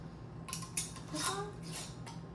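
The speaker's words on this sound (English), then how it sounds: "And then put the lid on, seal." A lid going onto a hot canning jar of homemade black raspberry jam: a few light metallic clinks and taps of lid against glass rim, fairly quiet and close, with no talking.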